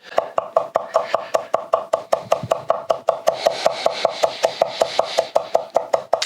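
A knife finely chops vegetables for pico de gallo in quick, even, rhythmic strikes on a cutting board, close and crisp, with no pause for several seconds.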